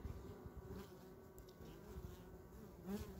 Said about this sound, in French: j'entends un frelon. Ça, c'est un Européen